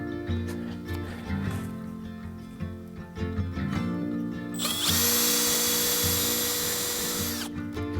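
A power drill countersinking and driving screws into wood during a Lyman boat restoration, droning through the clip and then rising to a loud, sustained high whine for a few seconds before easing off.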